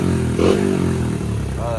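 A cheap pit bike engine idles and sputters unevenly at close range, its low chugging note clattering along with a short blip near the start.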